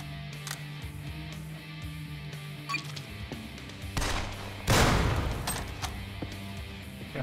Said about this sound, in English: A rocket turret.